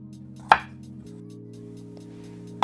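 A knife chops onion on a cutting board: two sharp, isolated knocks about two seconds apart, close and distinct over a steady low appliance hum.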